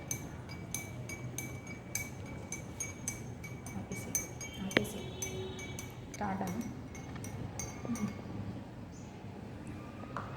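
A metal spoon stirs a few drops of milk into a glass of water, giving a run of light, quick clinks against the glass in a steady rhythm, with voices talking underneath.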